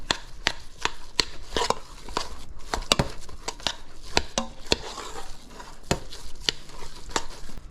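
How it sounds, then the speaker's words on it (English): Green seasonings stirred into a shammi kabob mixture in a bowl, a close run of sharp, irregular taps and scrapes of the spoon against the bowl, loud and busy with no voices. "Let's stir in the green seasonings."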